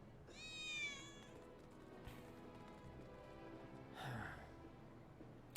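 A cat meows in the video game Final Fantasy 7 Remake, one clear rising-falling meow near the start, followed by quieter ambient game sounds and a faint breathy noise later.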